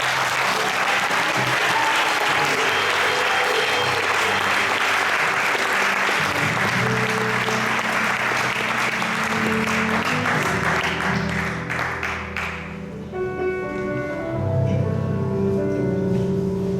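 A church congregation at an ordination service applauds to acclaim the Lord, with loud, dense, sustained clapping from a large crowd and music underneath that comes through more clearly as the applause thins near the end.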